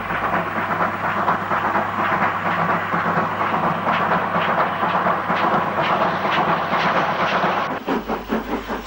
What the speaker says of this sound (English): 6971 Athelhampton Hall has a slower timed freight on the up line.